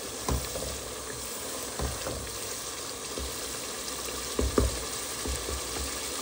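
Roast masala for chicken roast being stir-fried in a pan, a steady close sizzle broken by periodic scraping stirs and a few louder clatters, with no talking.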